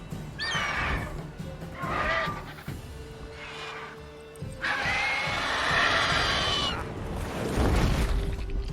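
A horse in The Witcher 3 video game gives several loud, shrill neighs and whinnies, one after another in distinct bursts, with scraping and clattering game noises between them.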